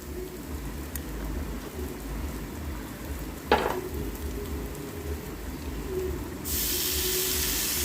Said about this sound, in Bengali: এবার ভালো করে এটা মশলাটা নেড়ে নেব, নেড়ে কষিয়ে নেব।